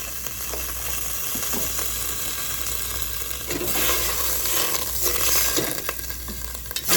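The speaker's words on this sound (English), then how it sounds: "I'm adding a little butter to my pot, guys." Butter sizzling in a pot on the stove, a steady crackling fry that grows louder midway, with faint stirring scrapes and no talk.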